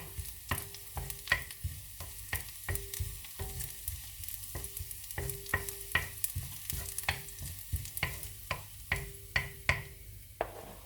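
Food browns in a hot frying pan with a constant sizzle and crackle. A spatula stirs and scrapes it in quick, irregular clicks close by for several seconds, with no voices.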